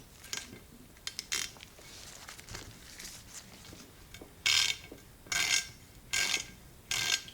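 A hand ratchet is worked back and forth to back out a fastener, giving a run of short, fairly close clicking bursts that come in a steady, repeating rhythm.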